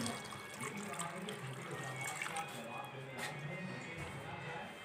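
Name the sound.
water poured into pressure cooker with beef trotters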